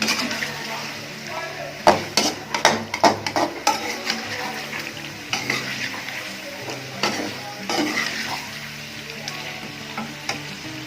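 Chicken pieces fry and sizzle in a karahi for green chicken karahi, with steady crackling under a run of sharp clanks and scrapes as a spoon stirs against the pan, nearby and fairly loud, with no talking.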